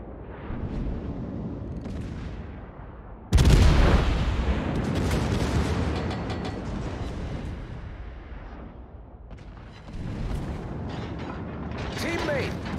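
Main guns of the USS Illinois, a tier 9 battleship in World of Warships, go off in one sudden heavy booming salvo followed by a long rumbling decay, with softer mechanical battle noise around it.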